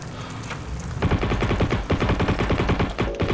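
Heroes and Generals infantry gameplay fills with sustained automatic gunfire, a dense rattling stream of close shots that runs nearly unbroken after a short quieter lead-in.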